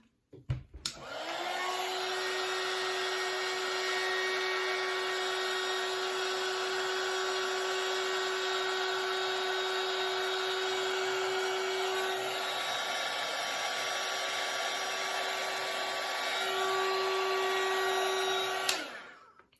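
Heat gun heating Worbla thermoplastic, a loud continuous blowing whine that switches on abruptly, holds steady and close for the whole stretch, then cuts off at the end.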